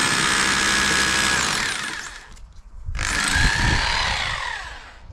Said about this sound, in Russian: Сверло у нас такое не сильно длинное, поэтому приходится за два захода сверлить.